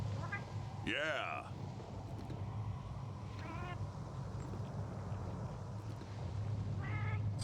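A cat meows in the video game Monster Hunter: World, one loud rising-and-falling meow near the start and softer mews later, over steady game background noise with a brief spoken word.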